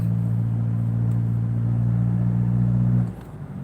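A car's engine hums steadily at a low, even drone while driving, then the tone drops away abruptly near the end as the motor settles.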